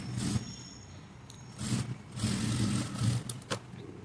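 A sewing machine stitching a blouse runs in several short, close bursts of whirring with brief quiet pauses between them, fairly soft and with no talking.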